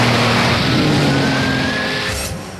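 A Bugatti Veyron launches off the line in a drag race, its engine roaring loud and continuous with a rising whine and some tire noise before fading slightly at the end.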